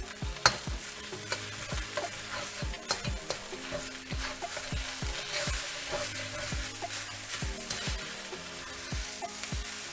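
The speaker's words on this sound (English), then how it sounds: "Now that our rice is cooking with our veggies, we're going to add our eggs back in" Fried rice with vegetables and eggs stir-fries in a hot pan, a steady sizzle broken by repeated scraping and tossing strokes of the spatula, close and continuous with no voices.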